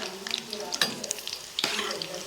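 Gulab jamun frying in oil over a medium-low flame give a steady soft sizzle, with light stirring clinks and a couple of brief scraping bursts close by.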